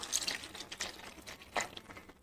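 Water splashes into a pan of drumstick curry in a few quiet, irregular pours and drips, close by with no voices.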